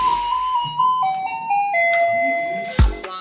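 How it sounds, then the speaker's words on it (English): A Taiwanese garbage truck plays its loud, near electronic melody as a run of steady tones stepping down in pitch, ending in a sharp bang and a short rattle. "the trucks arrive playing everyone's favorite tune"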